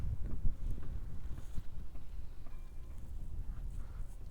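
Wind gusts over a lake with rippling waves, a low rumbling rush buffeting the microphone continuously, with no voices.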